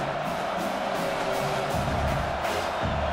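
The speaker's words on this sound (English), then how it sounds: "This crowd, full throat, spreading the eardrums and letting them know it's going to be a long day." A stadium crowd roars in an EA College Football game simulation of Ole Miss at South Carolina, a continuous loud wash of cheering with low rumbling swells and no commentary over it.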